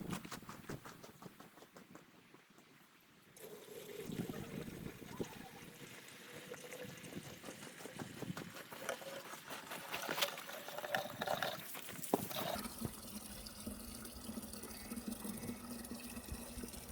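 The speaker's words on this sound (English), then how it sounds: "Now I'll get my watering can, just give those a bit of water" A watering can sprinkling water onto freshly planted vegetables in a garden bed, a continuous soft patter and trickle that grows fuller partway through, close and quiet, with occasional faint handling noises.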